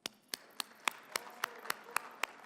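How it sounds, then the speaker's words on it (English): A small audience at an energy summit in Colorado claps for a panel, giving roughly nine sharp, separate claps spaced fairly evenly over a couple of seconds, sparse and close rather than a full ovation. "give a round of applause to all of our panelists"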